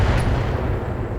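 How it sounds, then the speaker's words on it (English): In the BattleTech video game, LBX autocannon fire lands as a loud, heavy booming barrage, deep rumbling blasts rolling together over just over a second with no talk. "So that looked like some kind of LBX kind of cannon."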